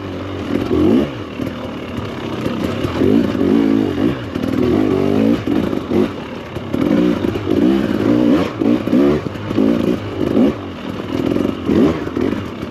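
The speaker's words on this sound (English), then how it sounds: "I gotta work on my habit of giving a little bit of throttle when I hit the starter button" A Husqvarna TE300 Pro two-stroke dirt bike starts and revs close by, its engine rising and falling in repeated throttle blips.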